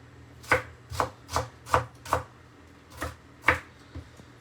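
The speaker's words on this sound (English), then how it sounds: "I've just kind of chopped them along sideways and then just going kind of in the opposite direction" A knife chops an onion into small chunks on a board, with eight crisp, evenly spaced chops close up and no talking.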